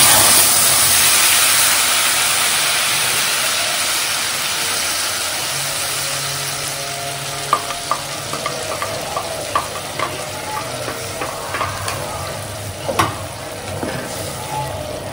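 A paste of green chili, tomato and ginger frying in a pan makes a loud, steady sizzle. It eases slightly over time, broken near the end by scattered scraping and stirring clicks, with no talking.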